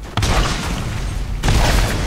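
Gunfire and explosions in Borderlands, loud booming blasts at the start and again near the end, with a constant rumble of shooting between them.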